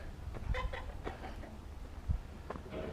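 Chickens cluck softly near an aquaponics setup, short faint calls scattered over a steady low background hum, with no talking.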